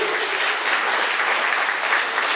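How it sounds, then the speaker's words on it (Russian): A church congregation applauds during a seminar, a thick, continuous wash of clapping that stays loud and even for the whole stretch with no speech on top. "Это аплодисменты Богу за вас"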